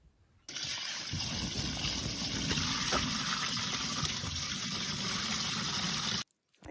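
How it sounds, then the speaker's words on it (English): Water pours steadily from a bucket into a washing machine drum for an off-grid laundry load, a continuous close gushing splash lasting several seconds before stopping abruptly. "I'm going to add some water and start it running"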